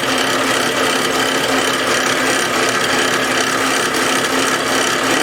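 Sandpaper rubbing on a turned wooden vase, a continuous loud rasping scratch that stays steady throughout.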